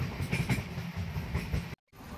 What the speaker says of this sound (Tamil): Train number 22629. இந்த தாதர்லேருந்து திருநெல்வேலிக்கு போகுது.